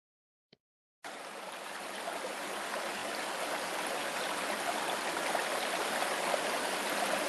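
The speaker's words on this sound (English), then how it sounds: "focus your attention on the screen of our lovely stream gently flowing" A gently flowing stream starts after a second of silence and a faint click, then keeps up a steady, soft broadband rush of running water, unbroken and calm, with no voices.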